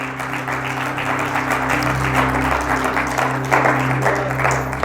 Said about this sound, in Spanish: Fuerte el aplauso al bendito Señor para siempre.